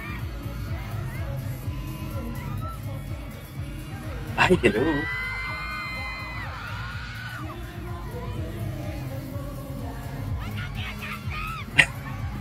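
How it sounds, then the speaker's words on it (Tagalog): A large crowd at a concert finale screams and cheers in waves, with shrill shrieks peaking in a burst near the middle. A nearby voice speaks briefly over the roar. "Grabe yung sigawan."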